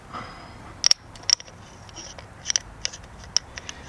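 Socket wrench tightening nuts on a motorcycle oil filter cover of a DR 200 SE, heard as sharp metallic clicks and ratcheting bursts in short irregular clusters over a quiet background.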